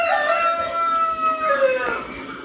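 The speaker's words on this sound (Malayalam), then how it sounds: "കണ്ടോ, കോഴികൾ കൂവണ സൗണ്ട്," Roosters crow in the early dawn, a long drawn-out call ringing from some distance, with faint ambient noise and no talk.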